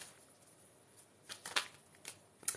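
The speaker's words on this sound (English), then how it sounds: "so let's shuffle these cards." Tarot reading cards are shuffled close by, quiet riffling and flicking bursts with a few sharper snaps in an otherwise hushed room.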